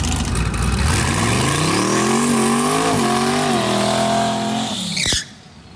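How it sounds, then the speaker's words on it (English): A twin-turbo Camaro does a loud, close burnout at a drag strip, its engine revving hard over screeching tire squeal that rises and wavers for about five seconds, then cuts off abruptly into near silence. "Good burnout."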